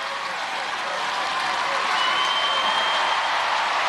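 A studio crowd at a 1998 UK Gladiators heat applauds and cheers steadily, a dense, sustained roar of clapping and voices holding at full strength throughout.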